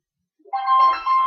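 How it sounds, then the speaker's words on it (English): A mobile phone ringtone starts abruptly and plays a bright, tonal electronic melody, loud and close, alone without talk. "my phone's ringing."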